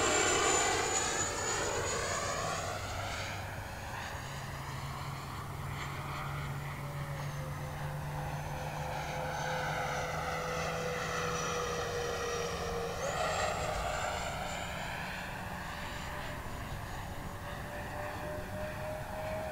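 Freewing F-14 Tomcat twin 64mm electric model jet climbing on its maiden flight, a steady whining ducted-fan roar that sweeps in pitch as it passes and banks, fairly loud and alone.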